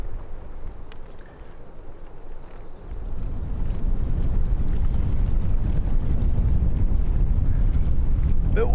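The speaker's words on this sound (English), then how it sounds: "Bit windy today." Strong wind gusting in the Norwegian mountains, a steady low roar buffeting the microphone that swells louder after a few seconds and keeps blowing hard without letting up.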